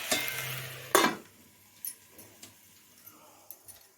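Tomatoes with Kashmiri chili sautéing in a pan, a soft sizzle under a couple of loud scraping stirs, then lighter scattered clinks and scrapes.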